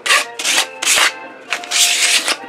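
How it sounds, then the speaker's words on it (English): Sandpaper rubbed by hand over a part of a dead utility pump: close, raspy back-and-forth strokes in about five quick bursts with short gaps between them. "And use some sandpaper."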